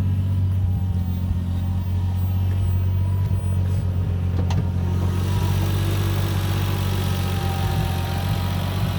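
A 1990 Toyota Supra with a swapped engine idles steadily close by, a low even hum with a constant rhythmic throb and no revving, running alone throughout.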